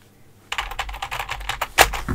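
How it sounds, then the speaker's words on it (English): Quick, uneven clatter of keys on an old 1990s membrane computer keyboard, close and clear, starting after a short silence and ending in a louder key strike. "It's an old membrane keyboard that I just happened to have around."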